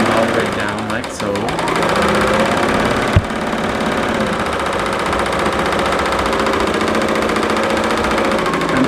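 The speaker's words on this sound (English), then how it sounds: "I'm actually sewing this fast, and you can actually do that on a serger" A BERNINA serger runs at high speed while sewing quilt binding, a loud, steady mechanical whir and rapid stitching rattle that holds almost unbroken, with one brief click partway through.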